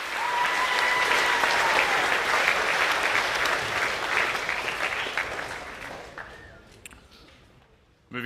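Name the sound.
applause for Year 9 rugby league award winners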